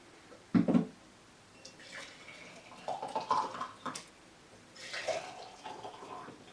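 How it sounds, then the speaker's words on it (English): Borax crystal solution poured into jars, a few splashy pours and trickling liquid sounds arriving in bursts with brief pauses between them. "Once your solution's ready, pour it in your jars."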